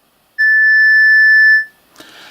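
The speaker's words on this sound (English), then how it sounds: "push the tone button" A phone app plays a ham radio repeater access tone, a single steady pure beep lasting just over a second, loud and close, then cutting off, followed by a faint rustle.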